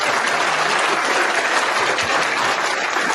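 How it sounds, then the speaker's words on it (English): A crowd claps steadily, a continuous wash of applause for about three seconds, with no talk over it. "So give me a round of applause"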